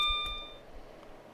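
A train cab alarm in Train Simulator 2021 sounds as a short electronic beep tone, a clear steady pitch that cuts off after about half a second and leaves quiet cab hum.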